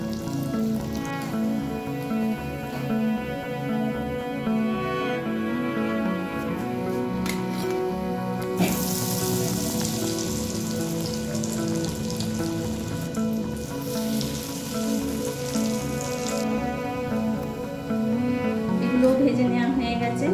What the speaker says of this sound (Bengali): বাকি সবগুলোকে এইভাবেই আমি ভেজে নেব